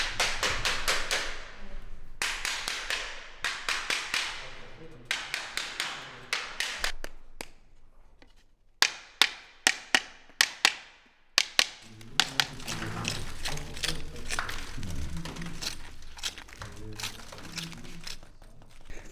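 A blade scraping and prying old paint off a wall during a delicate restoration, heard as bursts of crisp scratching and sharp taps and knocks, followed by denser crackling and crumbling near the end, up close with no voices.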